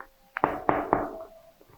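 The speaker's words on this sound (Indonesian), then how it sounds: "Kita ketok yuk." Three firm knocks on the front door of a house, closely spaced and fairly loud, with a softer tap just before them, then quiet.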